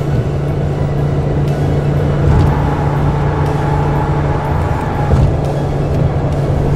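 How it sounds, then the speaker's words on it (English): A car with a Ferrari-built V6 engine driving: a steady, low engine drone with a constant hum and road rumble heard from close by, without talk. "In the 6-cylinder. That's actually a Ferrari engine."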